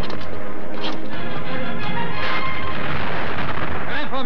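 Torpedo explosion striking a ship amidships in a 1960 war film, a dense, loud, rumbling blast with crackling debris sustained throughout, mixed with battle noise.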